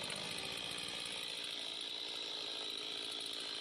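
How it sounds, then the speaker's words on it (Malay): A chainsaw cuts down a tree for sape wood, a steady loud buzzing whine that runs unbroken through the whole stretch with no voices. "kini proses ini menjadi semakin mudah dengan adanya mesin gergaji berantai"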